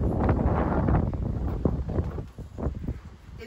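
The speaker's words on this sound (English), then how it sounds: "It's windy." Gusts of wind buffet the microphone on an apartment balcony in Texas, a loud rough roar that rises and falls in uneven bursts.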